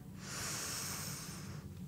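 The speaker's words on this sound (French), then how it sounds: "On prend une profonde respiration abdominale." A deep abdominal breath taken in a standing posture, one long, steady, close airy rush lasting nearly two seconds, loud and breathy with no talking over it.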